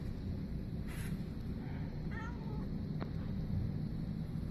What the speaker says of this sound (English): He's in here with another cat.